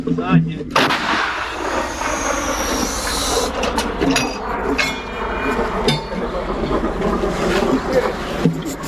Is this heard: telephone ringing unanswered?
no